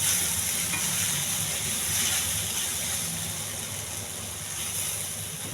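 Sliced eggplant (vankaya) fries in a pan with little oil, a steady, close sizzle with soft stirring that holds evenly throughout.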